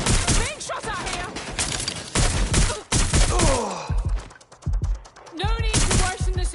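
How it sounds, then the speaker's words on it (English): Gunfire crackles in Watch Dogs Legion, loud, dense bursts of shots coming in waves with chirping electronic effects between them, and voices are heard over the firing. "Being shot at here."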